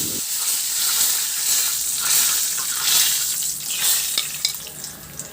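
Pompano fish frying in oil in a pan gives off a steady, fairly loud crackling hiss with small pops throughout, and no voices are heard.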